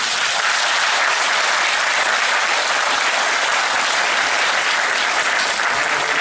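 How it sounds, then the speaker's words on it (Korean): An audience at a book concert for an essay book launch bursts into sustained, dense applause, loud and even throughout, many hands clapping together with no talk over it. "아버지의 삶에 큰 박수 부탁드리겠습니다"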